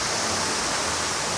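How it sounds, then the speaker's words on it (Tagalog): Steady, loud rush of water pouring down Mantayupan Falls, a tall waterfall in Barili, Cebu, heard as an unbroken broadband roar with no voices. "naririnig na natin at nakikita ko na yung agos ng tubig sa falls"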